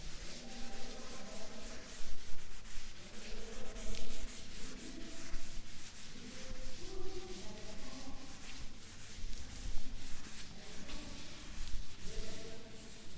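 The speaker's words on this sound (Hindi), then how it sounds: "बाकी सब ऊपर का रब कर देती हूँ।" Steady rubbing and scraping of an eraser wiping writing off a board during a maths lecture, continuous soft swishing strokes at close range with no talking over it.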